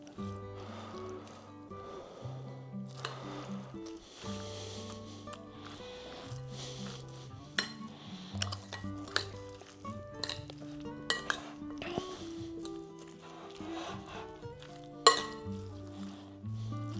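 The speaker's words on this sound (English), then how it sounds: "Now all we've got to do is just mix all this ingredients up." Slaw ingredients being stirred together in a bowl, soft scraping and clinks of a utensil against the dish recurring steadily over background music.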